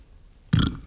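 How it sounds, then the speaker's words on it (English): A single short, loud burp erupts close up after a moment of quiet, lasting under half a second. "I burped."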